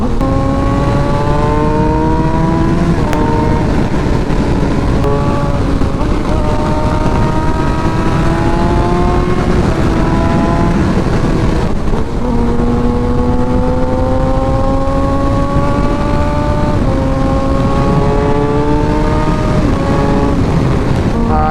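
Kawasaki ZX6-R and Suzuki GSXR 600 sport bikes pulling hard, engine pitch climbing steadily through the gears with brief dips at shifts, loud and close with constant wind rush, no talking.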